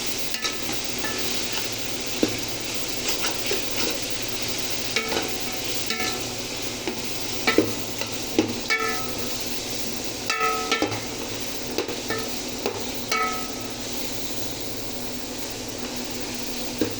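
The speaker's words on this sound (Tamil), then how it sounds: "வாசனை போகிற அளவுக்கு நல்லா வதங்கட்டும்" Biryani masala sautéing in a pan with steady stirring, a continuous frying sizzle broken by repeated scraping and clinking of a spoon against the pan, close and fairly loud, with no voices.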